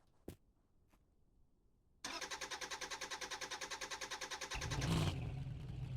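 Truck engine in the Drive Beyond Horizons game cranks with a rapid rhythmic starter whir for a couple of seconds, then catches and settles into a louder rumbling idle, heard alone and fairly close.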